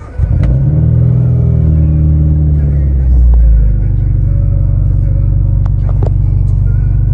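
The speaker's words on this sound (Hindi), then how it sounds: "गाड़ी को ज़रा कोल्ड स्टार्ट करते हैं" A car engine cold-starts after standing for two days, cranking briefly before catching into a loud, steady idle rumble close by with a slight rev, and a few faint clicks.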